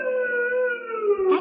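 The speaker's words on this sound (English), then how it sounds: "And then I heard that siren in the distance." Siren wailing in a 1945 radio drama about an escaped prisoner from a nearby state prison, a single drawn-out wail that slowly falls in pitch, carried alone without talk.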